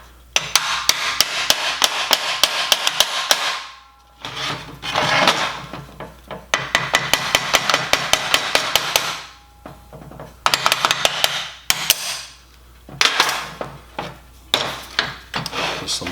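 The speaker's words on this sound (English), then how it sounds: "Some light taps to get that to fall into place." Light hammer taps fit steel parts of a DIY welding positioner kit together, coming in quick, close bursts of sharp metallic knocks with short pauses between groups.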